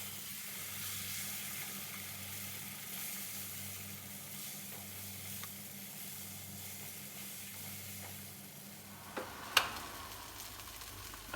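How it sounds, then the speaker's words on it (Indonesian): Spice paste sautés in a non-stick wok with a soft, continuous sizzle and light stirring scrapes, ending in a couple of sharper clinks near the end; no voices. "Tumis bumbunya sampai benar-benar matang."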